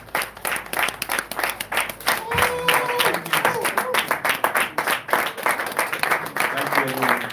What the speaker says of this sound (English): With a resounding applause